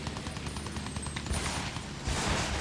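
Rapid machine gun fire from the Battlefield 1 video game, mixed with other gunfire and explosions as a barge comes under attack; a dense, continuous, loud burst of shots that grows louder near the end.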